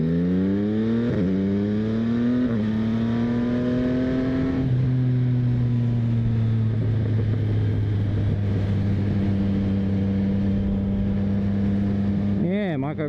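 A motorcycle ride recorded on a DJI Osmo Action 4 with a lav mic: the engine revs climb in pitch through several gear changes, then settle into a steady cruising hum over constant wind noise.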